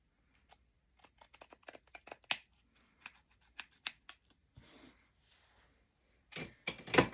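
Pinking shears snip through fabric while sewing pockets, producing a quiet series of irregular crisp clicks and crunches spaced across several seconds, with a denser burst of snips near the end.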